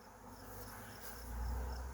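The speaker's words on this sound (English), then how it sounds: "These are all bees just flying around." A faint, steady hum of bees flying around near a box during a bee rescue, a soft continuous buzz close by and low in level, with no voices.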